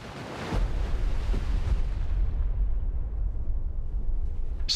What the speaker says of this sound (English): Ready depth charges. Shallow fire 2.